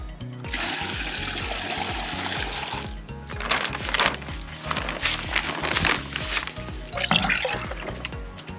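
An outdoor shower in the Guatemalan jungle pours water in a steady splashing stream with gurgling and dripping while someone washes, the flow shifting in bursts close to the microphone.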